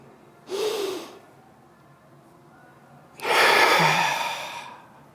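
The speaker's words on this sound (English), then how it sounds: "Taking that good, long, deep breath is a way of doing what?" Close, deep human breathing: a short audible breath, a pause, then a much longer, louder drawn-out breath in quiet surroundings.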